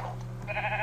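Sheep in the Minecraft video game bleat in a short, wavering baa that rises near the end of the moment, heard over a low steady background hum.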